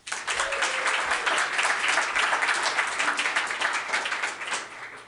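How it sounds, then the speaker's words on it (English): Audience applause at a live storytelling show rises quickly into steady, close clapping, then gradually thins and fades toward the end. "let's give another round of applause for Jen."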